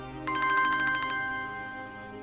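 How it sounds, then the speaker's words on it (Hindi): A phone ringtone starts abruptly as a rapid trill of bright electronic tones, then settles into a sustained ringing tone that fades slowly, clear and alone with no talk. "किसका फोन आ रहा है?"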